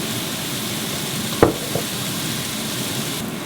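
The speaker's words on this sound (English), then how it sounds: "the onions and the carrot are starting to brown a little bit" Onions and carrot frying in olive oil give a steady, even sizzle throughout, with a short clatter near the middle and a faint second knock soon after.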